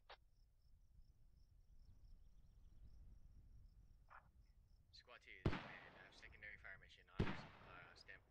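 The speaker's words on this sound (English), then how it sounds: "We got mines coming, or not mines, sorry, mortars coming in." Incoming mortar rounds in the video game Squad land as two sharp, loud explosive booms a couple of seconds apart, rising over a quiet bed of insect-like chirping and faint ambient noise.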